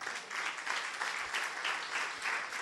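A church congregation applauds during a sermon, a steady, dense patter of clapping heard from a distance at low volume throughout.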